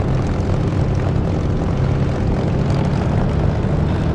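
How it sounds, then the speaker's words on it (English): A Spitfire's piston engine roars steadily in a DCS flight simulator, flying low with the canopy open, a loud continuous propeller drone that holds alone throughout. "Beautiful sounding engine, especially when you're lower to the ground with the canopy open."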